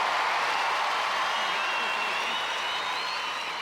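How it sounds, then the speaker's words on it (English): A studio audience at a 1995 Australian Gladiators Army versus Navy event gives a steady, dense round of applause, a continuous wash of clapping that holds at an even level throughout. "I think a big round of applause"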